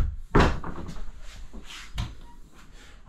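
A bathroom door inside a toy hauler RV swings shut with one firm thump near the start, followed by quieter rattles and a second softer knock, with faint voices in the background.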